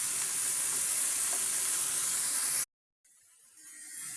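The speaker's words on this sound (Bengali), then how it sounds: "করলাটা আমি সুন্দর করে নেড়ে নেব।" Bitter gourd fries with shrimp in a pan, giving a loud, steady hiss of sizzling oil that cuts off abruptly, then a quieter sizzle returns and slowly builds.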